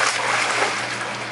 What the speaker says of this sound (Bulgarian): Затвори устата и се потопи.